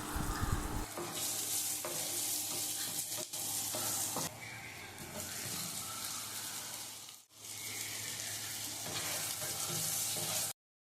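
Onions and potatoes frying in a hot pan with chili and coriander powder, a steady loud sizzle broken by scraping stirs, heard alone without talk.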